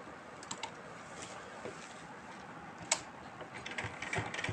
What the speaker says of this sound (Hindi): अब मैं इसकी सिलाई कर दूँगी धीरे धीरे